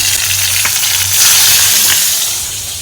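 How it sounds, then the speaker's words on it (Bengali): Fish sizzles as it fries in a pan of oil, a loud, close, steady hiss that lasts the whole moment. "একে একে ভাজবো একটা মাছ দিয়ে দিয়েছি"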